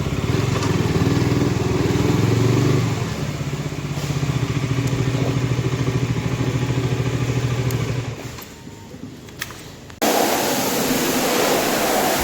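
Water sprays in a steady loud hiss at a motorcycle wash, with an engine-like drone underneath that fades, then the spray returns sharply after a short quieter stretch.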